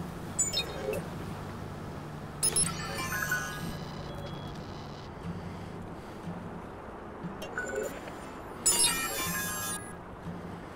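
A hacker's phone in the video game Watch Dogs gives off two short bursts of bright electronic ringtone-like chirps, a few seconds apart, over a low game ambience.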